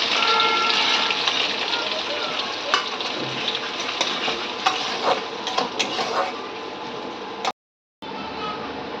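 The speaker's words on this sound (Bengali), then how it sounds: "জিরে হয়ে গেছে, এখন লঙ্কা আর পেঁয়াজটা দিয়ে দেবো।" Green chili and onion frying in hot oil with cumin for dal fry, a steady close sizzle with scattered stirring scrapes and clinks, briefly cut to silence near the end.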